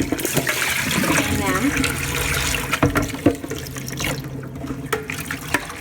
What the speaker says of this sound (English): I'm washing the nettles. I'm gonna swish them around with my glove, my gardening gloves, right?